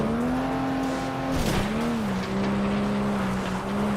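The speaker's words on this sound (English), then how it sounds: "Slide the car through the final corner" A race car in FlatOut 2 slides through a corner, its engine holding a steady loud drone with a brief pitch dip and faint tire scrub as the car drifts, continuous throughout.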